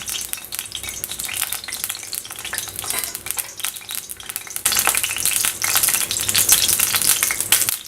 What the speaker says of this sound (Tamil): இப்போ கடாயை ஹீட் பண்ணிவிட்டு எண்ணெய் சூடானதும் அதில் கொஞ்சோண்டு கடுகு